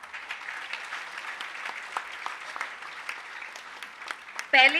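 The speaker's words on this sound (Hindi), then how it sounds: "जोरदार तालियां।" Loud applause from an audience welcoming a guest from Mexico at a meditation gathering, a steady wash of many clapping hands throughout, with a sudden louder burst near the end.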